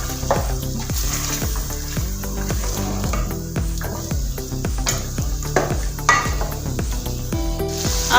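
Mutton paya sizzles and fries steadily in a pan, with a regular rhythm of stirring and scraping strokes against the metal throughout, loud and close.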